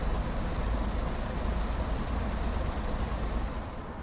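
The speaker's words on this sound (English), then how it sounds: "Brakes release." A loud, continuous hiss of a UK train's air brakes releasing in Train Sim World 4, broad and steady, close by, easing off slightly at the end.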